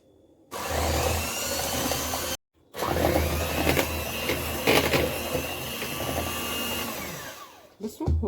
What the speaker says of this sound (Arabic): وهبدا اضرب الكلام ده مع بعض